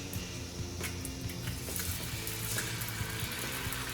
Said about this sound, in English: I like cracking my eggs on a flat surface